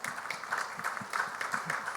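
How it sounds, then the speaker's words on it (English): An audience at a Delhi Crime season 2 case study event applauds, a dense, steady patter of many hands clapping, fairly faint and distant throughout. "He really, he deserves a big round of applause."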